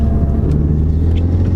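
A Renault Megane 250RS fitted with a K-TEC induction kit pulls hard under acceleration, a deep, steady, rumbling engine and intake roar recorded close and loud over a short burst.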